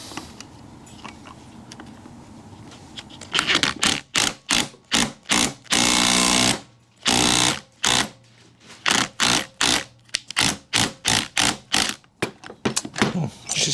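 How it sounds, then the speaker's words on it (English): Pneumatic impact wrench hammering at a fastener on a Garelli SSXL moped engine case, a quiet stretch of shop noise followed by a rapid series of loud, short rattling bursts with brief pauses between them. "it's probably not the best idea to try this with an impact, but I'm lazy"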